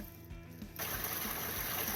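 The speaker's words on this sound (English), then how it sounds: "the water is a spring right over here" Spring water on the Appalachian Trail between Bennington, Vermont and Hanover, New Hampshire, starts with a low murmur and then switches into a steady, close, broadband splashing rush that carries on to the end.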